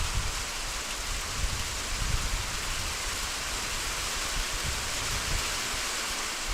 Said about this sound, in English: It's raining hard again.